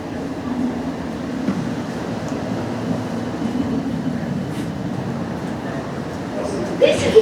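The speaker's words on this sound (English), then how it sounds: "This is a District Line train to Wimbledon." A London Underground District Line train runs near Earl's Court with a steady low rumble and rattle of the carriage, while an onboard announcement voice speaks over the noise.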